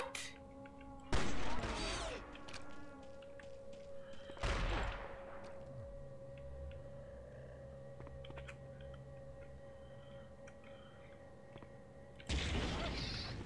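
Gunfire in Blood 2: The Chosen comes as three loud bursts of shots and booms, with a hum and quieter game sounds filling the gaps between them.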